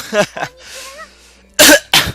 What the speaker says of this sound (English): I'm coughing up a lung